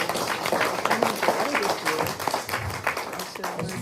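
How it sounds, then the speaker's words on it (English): Attendees at an anti-poverty ministry event give a round of applause for the morning speakers, clapping moderately loud and close, with people talking underneath. "let's just give a round of applause for our three morning speakers."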